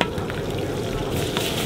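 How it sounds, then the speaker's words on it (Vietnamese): Minced garlic fries in hot oil in a pan, part of a Tày wedding dish of stir-fried duck. A dense, continuous sizzle and crackle runs steadily throughout at close range, with no voices. "Bây giờ phi tỏi cho thơm lên."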